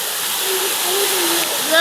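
A waterfall seen on a bamboo forest hike roars as a steady, loud, broadband rush of falling water, close by and unbroken, with a faint voice partly beneath it.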